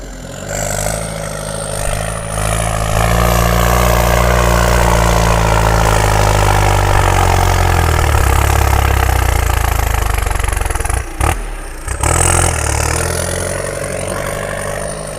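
Kubota M7040 turbocharged tractor pushing a heavy load in second gear high, its engine a loud, close, sustained low roar that climbs and strains, briefly dips near the end, then settles back to a steady drone.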